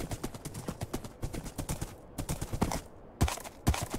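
Rapid, rhythmic clip-clop of horse hooves while riding in the GregTech New Horizons video game, a close, steady run of sharp hoofbeats with brief pauses and a couple of louder strikes near the end.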